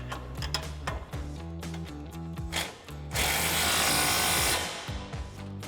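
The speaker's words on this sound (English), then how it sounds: "we can tighten our lower shock mount. It's gonna be a 19mm socket and 19mm wrench" A 19mm socket and wrench tighten the lower shock mount bolt on a 2005-2023 Toyota Tacoma fitted with a FOX 2.0 front coil-over, giving repeated close ratcheting clicks and metal scrapes, with a steady rush of noise midway.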